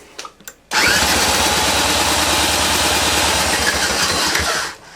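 An old Milwaukee drill cranks a Johnson 9.5 outboard engine's bottom cylinder for a compression test, a loud continuous whirring drone lasting about four seconds after a few brief clicks, then cutting off.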